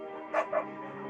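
A beagle in the game Firewatch gives two quick, close barks in a short burst over a steady tonal background.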